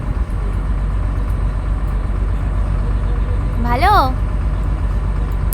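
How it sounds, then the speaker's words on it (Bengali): A boat engine drones low and steady as the boat moves slowly through the Sundarbans mangrove waterways, a loud continuous rumble with a brief rising whistle-like tone near the end and a voice speaking briefly. "আর বোটটা খুব আস্তে চলছে এখন।"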